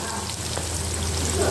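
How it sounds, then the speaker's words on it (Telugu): Onions fry in hot oil with turmeric, a steady close sizzle and crackle with a low hum underneath, continuous and even across the short stretch. "కలర్లోకి వచ్చే వరకు ఆయిల్లో వేగనివ్వాలి."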